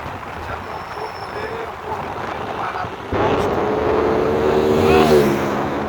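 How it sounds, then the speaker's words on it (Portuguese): Cars arriving at a São João bonfire festival in Pontal do Araguaia, Mato Grosso: wind-buffeted rumbling that swells into a louder engine approach, with a person talking nearby. "E mais carro chegando, e mais carro chegando, mais carro chegando"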